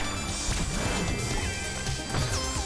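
Video game Celeste, chapter 6: a loud crash-and-smash effect bursts out within dense, continuous game music and sound effects, with several sharp hits piled over the busy mix.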